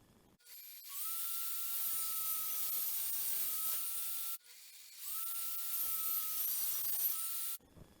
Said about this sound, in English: all I'm doing now is throwing in an 1/8 inch radius using my router